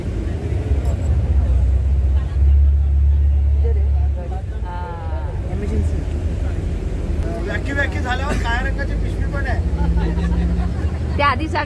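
A Sai Ganesh Travels tour vehicle on a pilgrimage trip in Maharashtra runs with a steady low engine rumble throughout, heaviest in the first few seconds, while several people talk and chatter over it.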